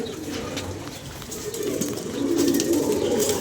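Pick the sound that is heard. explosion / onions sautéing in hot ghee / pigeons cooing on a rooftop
pigeons cooing on a rooftop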